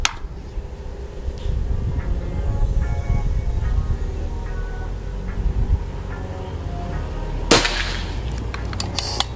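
A single sharp PCP air rifle shot from a fifth-generation Pajero Gun cracks out once near the end amid steady low background rumble outdoors.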